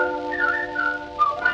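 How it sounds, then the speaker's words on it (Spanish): A melodic whistled tune, sustained and wavering, carried over a steady 1941 tango orchestra backing with a few brighter rising notes near the end. "el silbido clave porteña que ella esperaba con tanta"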